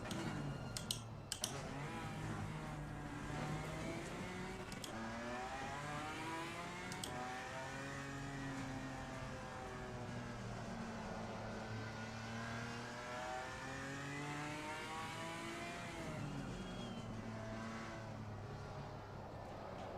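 GT4 race car engine in the racing game Assetto Corsa Competizione, a moderately quiet engine tone rising and falling in pitch through gear changes and throttle lifts, with occasional sharp clicks of controls, no talking.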